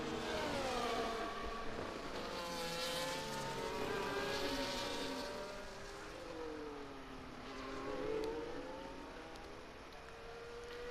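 F1 race cars at Monaco in the F1 24 video game, high whining engines rising and falling in pitch as several cars rev and shift, loud and steady without any voices.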